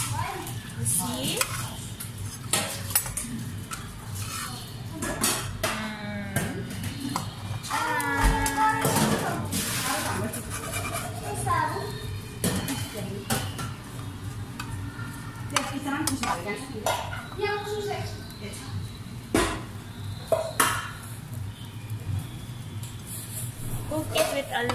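Bread toasting in a pot over low heat, with a spoon scraping and stirring against the metal, a faint sizzle and clinks of utensils, while a person talks throughout.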